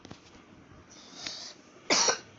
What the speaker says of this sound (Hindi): मेरे को थोड़ी खांसी हो रही है